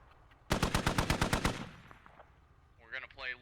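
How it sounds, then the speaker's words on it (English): In the military shooter Squad, a .50 cal machine gun fires a loud, close burst of about ten evenly spaced heavy rounds, and an echoing tail follows. Brief voice sounds come in near the end. "The 50 cal is actually shooting at the SPG a little bit."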